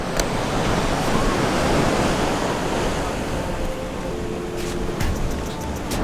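Ocean surf at Manhattan Beach heard from the pier, a steady broad wash of waves with wind rumble over the microphone, continuous and moderately loud, with faint clicks near the end.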